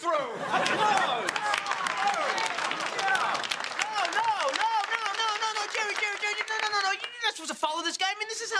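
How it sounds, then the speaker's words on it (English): A sitcom audience applauds and cheers while voices and excited chatter mix into the clapping, lively and continuous throughout. "Applause."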